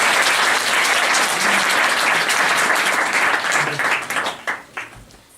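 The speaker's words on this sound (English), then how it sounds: "I think they deserve our applause." Audience applause at a Model United Nations closing ceremony, a dense sustained wash of many hands clapping that holds steady, then thins and tapers away over the last second.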